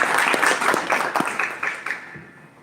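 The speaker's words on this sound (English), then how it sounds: "A very, very big round of applause" Small-room applause at a Toastmasters club meeting for a speaker, a handful of people clapping in distinct claps that thin out and die away after a couple of seconds.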